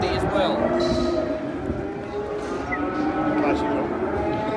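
Cattle lowing at a livestock saleyard during an auction of manufacturing cattle and calves, several moos rising over a steady crowded background with voices talking throughout.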